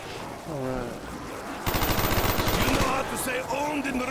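Rapid machine gun fire at zombies in Black Ops 1 Zombies, a loud sustained burst of close automatic shots following a brief stretch of talking, with game sounds continuing after.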